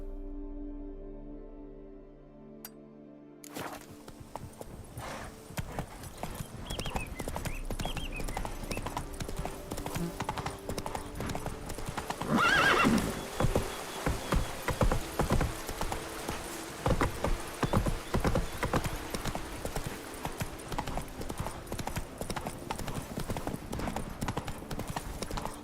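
A horse in The Witcher 3 trots along with steady rhythmic clip-clop hooves after a short quiet start, fairly close, with a brief whinny partway through and a voice speaking faintly at the opening.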